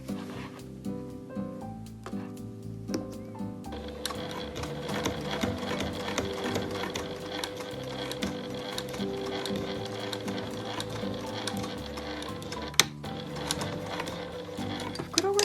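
An industrial sewing machine stitches the opening of a bag through thick layers, starting with soft mechanical ticking and then settling into a loud, steady rapid clatter with a sharp knock near the end.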